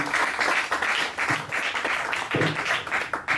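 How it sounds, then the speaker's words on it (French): An audience applauds after a presentation on legal protection in business relationships, a steady close round of clapping from a modest group lasting a few seconds. "Bien, on peut applaudir."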